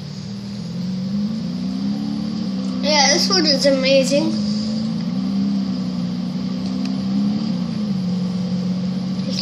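A race car in a driving game drives along with a steady engine drone and a brief revving burst partway through, while a person talks over it.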